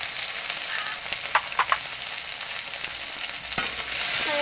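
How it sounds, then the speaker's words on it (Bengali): Potatoes seasoned with turmeric and salt fry in a pan, giving a steady close sizzle with a few sharp scraping stirs and clinks of the spatula. "এটাকে লাড়াচাড়া করে এটাকে ভালোভাবে আমি ভাজিয়ে নেবো আলুটাকে"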